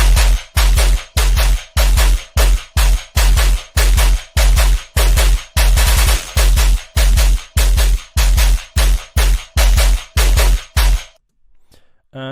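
Machine-gun bursts used as a bass-heavy sound effect in an electronic music track pound in a tight, regular rhythm, loud and up front, then cut off abruptly near the end.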